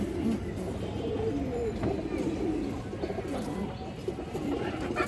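Pigeons cooing on a pigeon farm, several birds giving soft, repeated throaty coos that overlap continuously at close range, with faint chirps in the background.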